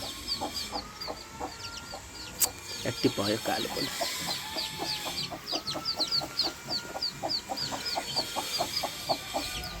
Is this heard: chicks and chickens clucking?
yes